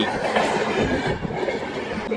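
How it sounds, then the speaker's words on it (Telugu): A Vijayawada–Ongole MEMU train pulls into Bapatla station with loud rumbling and rattling of wagons, a continuous close roar. "మన ట్రైన్ బాపట్ల స్టేషన్కి చేరుకుంది"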